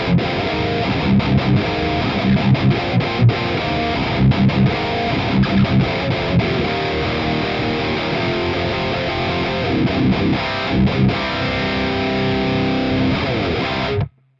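Electric guitar played through a Valeton GP-5 amp modeler pedal on a stock preset with delay and reverb switched off, a loud, dense distorted tone strummed steadily for about fourteen seconds before cutting off abruptly.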